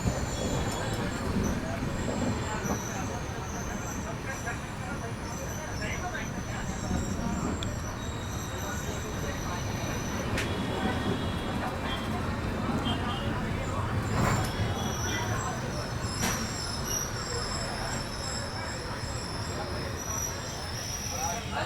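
Superfast express train on the Chennai Egmore to Rameshwaram route rumbles steadily as it starts moving, with continuous wheel and carriage noise, faint squeals, and voices murmuring inside the coach.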